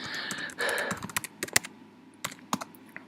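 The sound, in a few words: typing a password on a computer keyboard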